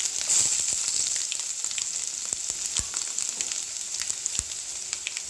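Ginger garlic paste sizzles in hot oil with a bright, continuous crackle up close, dotted with sharp pops and a few soft stirring knocks, with no talking.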